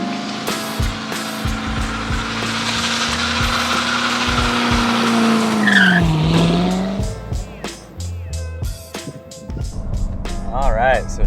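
A 2015 Corvette C7 Z51 with a 6.2-litre naturally aspirated V8 and seven-speed manual, driven in touring mode on a rough road; the engine drones and rises through revs, with a brief tire squeal, tread noise and a voice talking throughout.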